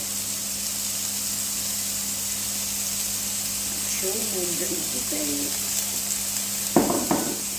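Fish and vegetables sautéing in olive oil in a pan make a steady, soft sizzle and hiss throughout. A few brief clinks come near the end, and someone talks softly over it.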